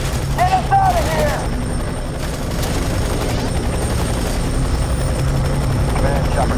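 A helicopter from the video game F.E.A.R. 3 drones steadily throughout, a continuous low rotor rumble layered with bursts of gunfire and radio-style chatter and short tonal effects near the start.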